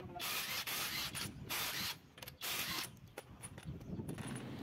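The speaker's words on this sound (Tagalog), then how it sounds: "At dahil huli na, kakalasing ko na itong gulong." Mechanic loosening a wheel on a Mitsubishi Xpander with a steering fault, close-up scraping, ratcheting and grinding metal sounds in uneven bursts, faint overall.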